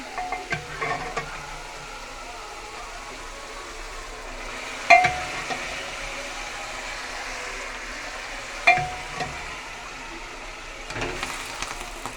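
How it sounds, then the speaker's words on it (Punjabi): Split lentils tipped into hot oil with cooked spices, a steady sizzle and frying hiss throughout, broken by a few louder clanks of a spoon stirring in the pot, with no talking. "ਹੁਣ ਵਿੱਚ ਦਾਲ ਪਾ ਦਾਂਗੇ ਜੀ"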